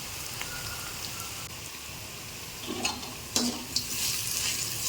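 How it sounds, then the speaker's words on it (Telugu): Turmeric and asafoetida sizzling in hot oil, a steady crackling hiss with a few louder pops and stirring scrapes near the end, no talking. "ఇంగువ యాడ్ చేసి దెన్ మంచిగా ఫ్రై చేశాను."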